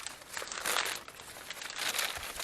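Masking paper for car painting is handled and unfolded, giving soft, irregular crinkling and rustling bursts at close range. No voices.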